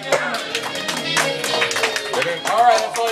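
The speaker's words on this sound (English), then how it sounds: "Applause." Clapping from the crowd at a 58th birthday roast, scattered and uneven hand claps mixed under voices and other sound in the room, moderately loud and never standing alone.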